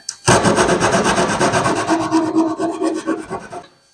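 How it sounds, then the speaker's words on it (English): Loud, steady hand sanding of car bodywork right up to a masking tape edge, a continuous rasping scrub of abrasive strokes on a door, hood or trunk panel, fading out at the end. "you can just sand it right up to the edge of that tape and it gives you a beautiful straight line"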